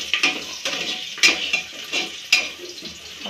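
Cumin seeds and onion frying in hot oil in a home kitchen pan, a soft steady sizzle under repeated scraping and stirring strokes of a utensil against the pan, close and moderately loud.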